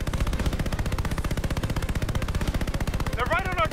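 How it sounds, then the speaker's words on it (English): Rapid, continuous machine-gun fire from an enemy aircraft strafing the player's plane during an aerial dive in Call of Duty: Vanguard, loud and rhythmic throughout, with a brief rising engine or whine near the end. "Why is it still shooting at us?"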